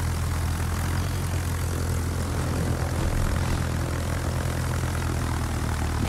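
Propeller engines of carrier aircraft drone steadily in World of Warships, a constant mid-level hum and buzz that holds without a break and is heard alone.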